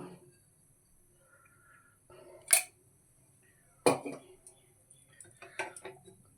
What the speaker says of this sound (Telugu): స్టవ్ వేసుకొని కుక్కర్ పెడతాను. కొంచెం ఆయిల్ వేసాను.